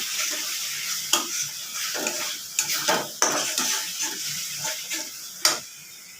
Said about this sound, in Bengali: এবারে আমি এটা ভালো করে কষাবো